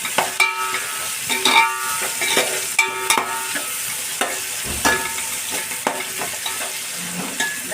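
Onions frying with a little salt in a pan, a sizzle broken by repeated sharp scraping strokes of a spatula in an irregular rhythm, close and clear, no speech.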